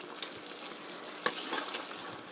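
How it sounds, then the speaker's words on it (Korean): Tofu with meat sauce stir-fried in a pan gives off a steady close sizzle and crackle, with soft scrapes and a couple of sharper knocks as it is stirred, and no voices. "골고루 저어가면서 볶아주세요."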